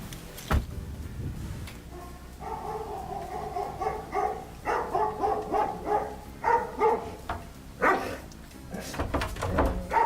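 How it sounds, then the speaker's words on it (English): A German Shepherd barks and yelps in quick repeated bursts, loud and close, amid thumps and shuffling noises in a game scene; a short clatter opens it and another bark comes near the end. "He has a German Shepherd named Lala. That is a terrifying dog"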